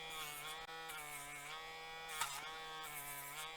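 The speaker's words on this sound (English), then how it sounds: "if you have a Dremel, I would suggest always get a Dremel. Sand these down a little" A Dremel rotary tool sands burrs off small metal edges, giving a faint, steady high-pitched whine that dips briefly a couple of times as the bit touches the work.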